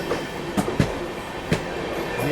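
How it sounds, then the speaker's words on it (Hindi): An Indian express train, the Ayodhya Express near Ghaziabad, running alongside on a parallel track: a loud, continuous rumble of wheels on rails with several sharp clacks at irregular intervals, close by. "ये तो अयोध्या एक्सप्रेस ओवरटेक करके जा रही है अपने को बिल्कुल पैरेलल में।"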